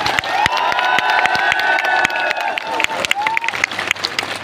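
A large crowd at a BJP public rally in Danta claps and cheers loudly, a dense wash of applause with sharp individual claps and raised voices throughout.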